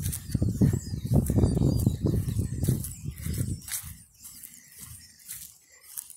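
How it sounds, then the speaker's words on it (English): Faint high bird chirps drift in from a distance over rumbling handling noise, which fades midway and leaves the chirping more exposed. "It's fun to hear the birds out here."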